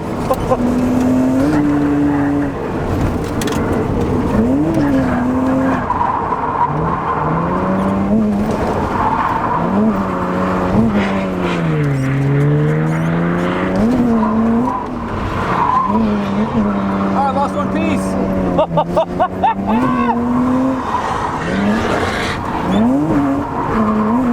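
Drift car in second gear sliding with long, wavering tire squeals over a loud, revving engine, the skid whine rising and falling continuously and close by throughout.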